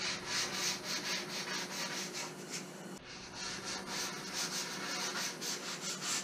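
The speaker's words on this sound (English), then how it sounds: "then finally hand sand round over. Just feeling for this shape." Hand sanding rounds over a wooden sailboat daggerboard with steady, close, rhythmic strokes of rough rubbing that continue without pause throughout.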